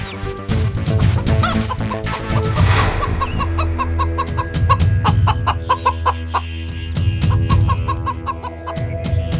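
Busy barnyard chatter of poultry, with rapid high chirps and clucks over a steady low rumble, continuing throughout without a break.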